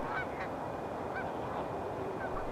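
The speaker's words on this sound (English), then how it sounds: "I also found a whole lot of geese." Geese honk faintly and intermittently along the wintry Bow River, where slushy ice is flowing, with a few scattered calls over a steady wash of outdoor noise.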